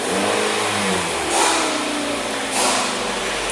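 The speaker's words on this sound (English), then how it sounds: "I'm just gonna play around with the throttle" A Hyundai Tucson engine with a cam and crank correlation fault and improper timing revs up twice as the throttle is blipped, rising from a steady idle and falling back, close and fairly loud with no talking.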